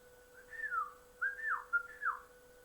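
A person whistles a short calling signal of three rising-and-falling tones, clear and fairly close, with a steady faint hum underneath.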